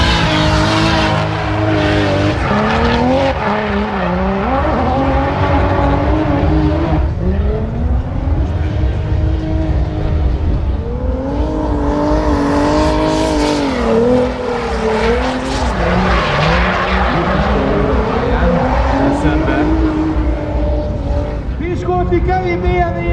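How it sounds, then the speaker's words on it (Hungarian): A race car at a speed festival heard from inside the cabin: a loud engine revving up and down through gear changes, with talk over it. "Hallani fogjuk a hangját és belülről az autóból"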